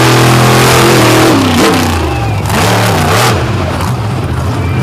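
Drag racing cars at a track event roar loudly with revving engines, pitch rising and falling in sweeping surges as they launch and pass, continuous and close.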